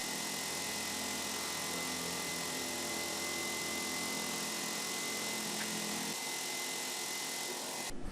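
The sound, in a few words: milling machine end mill countersinking hole in plate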